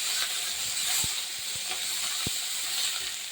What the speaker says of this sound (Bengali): পেঁয়াজ বাটা দিয়ে দেবো রসুন আদা সেটা একটু নেড়ে চেড়ে